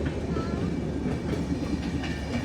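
A long multi-coach train rolls past close by, a dense rumbling roar with rhythmic clacking of wheels on rails, loud and continuous.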